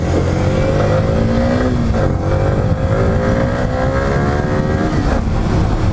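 A Yamaha R15 v3 150cc motorcycle accelerates hard on a test ride, its engine note climbing steadily through the revs, loud and close over rushing wind noise, with no talking.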